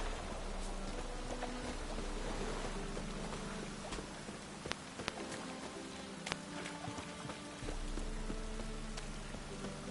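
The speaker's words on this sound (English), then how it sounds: "Looks like rain." Rain falling in the video game Journey, a continuous soft patter of drops on surfaces with scattered sharper ticks and a low rumbling bed underneath.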